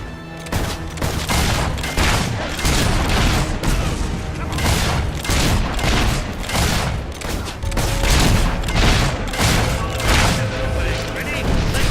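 Dense, continuous battle noise from Fable III, with mortar blasts and explosions mixed with rapid gunfire, loud and close throughout the clip with no gaps.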